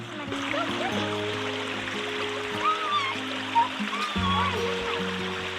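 Water rushes steadily in a broad, constant flow, with voices talking over it and a few brief squeaky tones.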